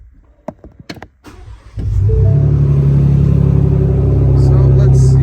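A 2021 Ford Bronco Wildtrak fitted with a Flowmaster Flow FX exhaust starts up after a few clicks and settles into a loud, steady, deep idle rumble, close by.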